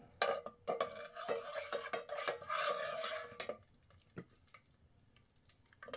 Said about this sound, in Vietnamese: Bây giờ thì đại ca đang vào làm đầu bếp làm món măng xào.